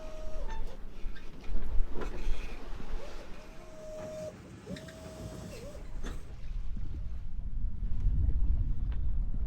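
Sailing catamaran under way close-hauled near islands, with steady wind rush and water noise against the hulls, a few thin tonal whines and clunks of gear, rumble building toward the end, no voices.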